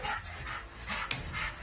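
A worked-up dog lets out short panting, whimpering yelps close by, several quick bursts in a row with no speech over them.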